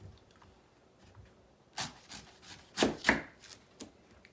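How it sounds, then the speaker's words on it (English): Smooth knife sawing through the hard fibrous shell of a coconut at an angle, a few short scraping rasps close up, with two stronger strokes near the end, in a quiet room. "So a smooth knife making a sawtooth motion peels it off really easy."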